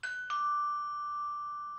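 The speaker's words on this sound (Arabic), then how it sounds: "ما تسمع الجرس؟" Doorbell ringing in a Gulf comedy series, a clear electronic chime that strikes, holds a steady sustained tone, then strikes again at the end.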